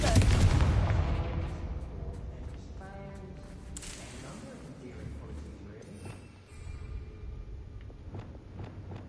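Blasting-spell explosions in the video game Hogwarts Legacy: a loud opening boom with a rumbling tail, followed by scattered cracks and pops as debris settles, over low game ambience and faint background talk.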